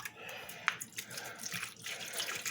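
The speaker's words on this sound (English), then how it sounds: "I'm going to put some water in here right now" Water poured from a spring water bottle into a pot roast packed with onions, a soft, steady splashing and trickling at close range with a brief sharp splash near the start, with no voice over it.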